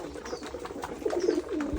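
Domestic pigeons on a home breeding farm, among them a sky-blue and a red bird, coo in low, rolling bursts that swell toward the end, close by with no talk.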